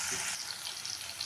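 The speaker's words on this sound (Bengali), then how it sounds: "দিলাম টমেটো কুচিটাকে দিয়েও ভালো করে ভেজে নেব" Chopped tomato frying in oil with potatoes in a pan for sabudana khichdi gives a steady, close sizzle and hiss, loudest at the start and then settling to an even crackle with no talking.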